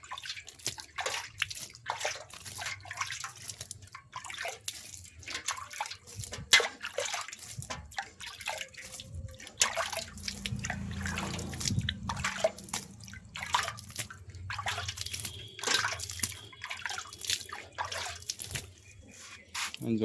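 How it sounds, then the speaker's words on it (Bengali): Water poured onto a potted coleus plant, splashing and trickling steadily for about twenty seconds, with dripping and sloshing into the soil and pot. "এই গাছটিতে জল দিয়ে দেবো।"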